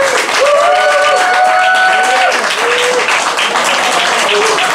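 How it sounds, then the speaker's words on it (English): An audience at a New York rap battle league show claps and cheers loudly for a fight winner, a dense sustained roar of applause with raised whooping voices throughout. "Put your hands together and get real loud if you think the winner of this fight is Fluke Human"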